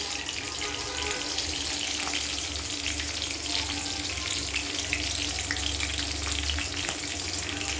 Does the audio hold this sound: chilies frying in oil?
yes